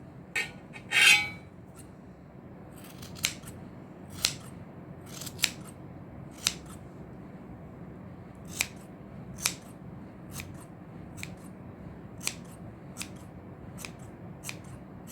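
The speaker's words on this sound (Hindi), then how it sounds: "कैंची को ऐसे हवा में चलाना है ताकि इसके जो उभरे हुए ऊपर को हैं वो फिनिशिंग में सही से हो जाए" Scissors snip at a crocheted baby cap during trimming, a dozen or more sharp, light clicks spaced irregularly over a soft background hiss, with one louder rustle early on and no talking.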